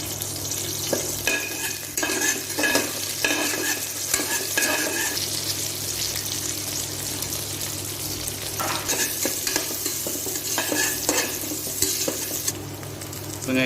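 Onions and curry leaves sizzle and fry in an oiled pan while a spoon stirs and scrapes them in steady, repeated strokes for sambar rice, the frying hiss continuous and close with no talking.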